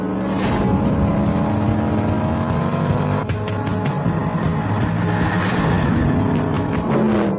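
A Mercedes AMG car's engine roars loud and close while driving, revving and shifting under hard throttle with a steady powerful drone, no talking.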